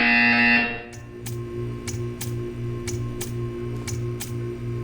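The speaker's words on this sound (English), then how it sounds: "You will hear a buzzer." In Portal, a tone cuts off and a steady hum settles in. A buzzer then sounds in a series of short, sharp, evenly spaced pulses, about eight in under four seconds, alone without talk.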